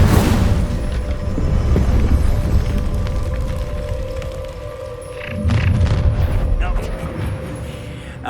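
Incendio fire spell in Hogwarts Legacy bursting with a loud, deep booming whoosh at the start, then a rumbling roar that swells again midway under a tonal music bed.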